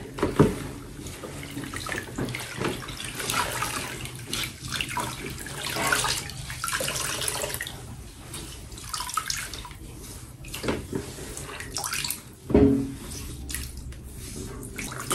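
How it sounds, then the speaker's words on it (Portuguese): Water mixed with detergent and kerosene in a mop bucket sloshes and splashes as a cloth is dunked and wrung, with continuous trickling and pouring and one heavier splash near the end. "Nesse balde do mop, eu coloquei aqui então água, detergente e querosene."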